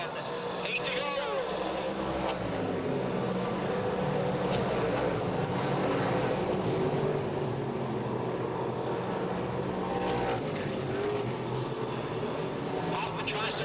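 Pro stock race cars roar around Selinsgrove Speedway, the engine drone swelling and fading as the pack passes, under continuous commentary from an announcer.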